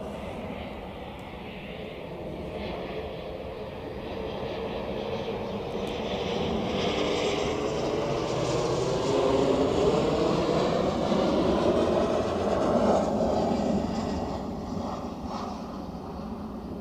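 A jet airliner departs Zurich Airport into fog, its engine roar building from moderate to loud, swelling in the middle and then slowly fading as it recedes into the distance.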